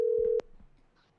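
A telephone line tone during a call, one steady electronic beep that cuts off abruptly, followed by faint clicks and line noise.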